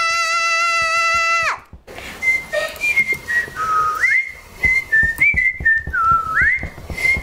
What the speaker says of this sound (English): Why are we whistling?